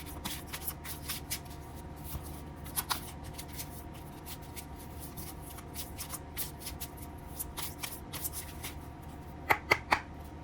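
Slow Tarot soul deck tarot cards are shuffled by hand, a soft continuous riffle of card edges with scattered sharper snaps and a few crisp flicks near the end, close and fairly quiet.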